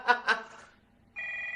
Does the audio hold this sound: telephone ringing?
yes